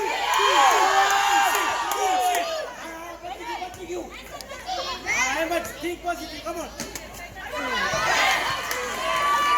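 Spectators at a throwball sports tournament at VVT Ground in Dar es Salaam cheer, whoop and chatter, a lively crowd of adults and children shouting together, with bursts of excited voices rising and falling throughout.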